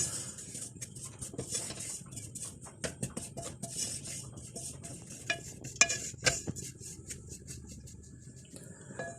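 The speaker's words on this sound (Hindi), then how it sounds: "अब इस घी के अंदर 2 कप बेसन डाल देंगे और इस बेसन को बहुत ही हल्की आंच पर आहिस्ता आहिस्ता इसको फ्राई करते चले जाएंगे।" Gram flour roasting in ghee over a low flame, with light spoon clinks and scrapes against the pan coming in irregular bursts over a faint soft frying hiss, close and quiet, no talking.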